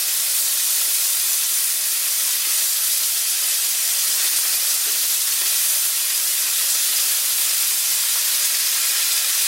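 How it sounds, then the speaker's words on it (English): Unsalted butter and pork chops in a cast iron pan give a steady, loud, close hiss of sizzling fat that continues evenly without break and without talk. "I'm going to throw a little unsalted butter on the top side here."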